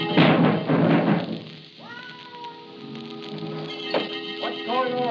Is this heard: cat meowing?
yes